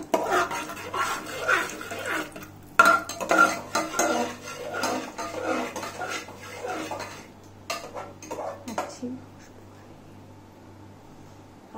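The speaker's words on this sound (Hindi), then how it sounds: "अब हम किशमिश डालते हैं। इसे भी हम भून लेते हैं थोड़ा सा भून लेते हैं।" Raisins are stirred and roasted in a pan, with a utensil repeatedly scraping and clinking against metal over a low hum. The stirring stays busy and close for most of the clip, then fades to quiet.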